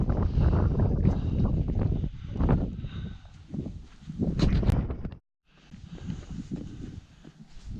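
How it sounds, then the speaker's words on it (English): Strong gusts roar across an exposed mountain ridge on a Nantlle Ridge hike in September, buffeting the microphone in loud, uneven surges that drop out briefly before returning. "Wind's getting up a bit now as well."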